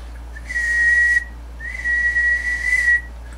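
Two sustained whistled tones into the microphone of a linear amplifier under bench test, close, each held steadily for about a second or more with a short pause between them.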